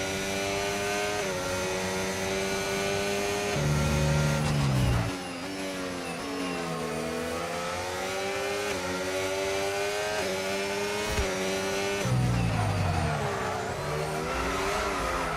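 Formula 1 cars race at pre-season testing in Spain, with loud, high-revving engines rising and falling through gear changes as several cars pass close by, and no talking.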